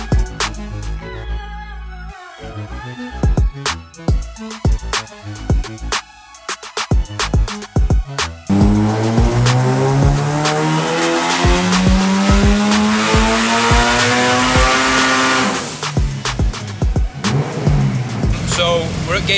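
A 1000 bhp 1.8L Honda Civic B18C6 engine on a dyno, loud close revving that climbs in long sweeps with sharp bursts and pops between pulls, with some talking at times.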